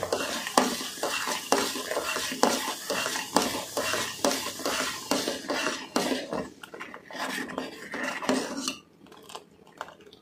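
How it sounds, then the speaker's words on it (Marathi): A spoon stirs sugar syrup with cardamom powder in a metal pot, making repeated close scraping clinks and knocks in a steady rhythm with a light bubbling sizzle, easing off near the end. "छान असं हे सगळं मिक्स करून घेणार आहे"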